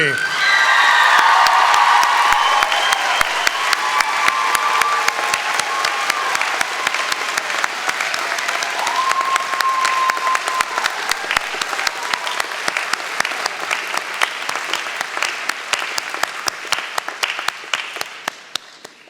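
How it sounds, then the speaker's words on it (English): Loud, sustained applause from a large crowd at a graduation ceremony, with scattered whoops and cheers rising over the clapping before it gradually thins out. "Graduates, a round of applause for the faculty."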